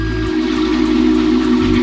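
A steam train's whistle sounds in a sustained, loud tone with a steady hiss of steam underneath, while a low rumble fades out briefly and returns.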